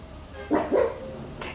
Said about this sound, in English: Can you listen to my dogs barking?